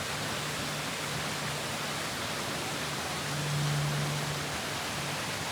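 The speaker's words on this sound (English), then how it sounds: "And the waterfall's nice to hear and see from the other side." A waterfall rushes steadily nearby, a dense, even hiss of falling water with no voices.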